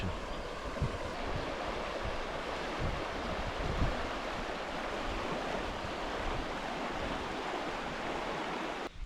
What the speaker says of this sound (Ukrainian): річка тече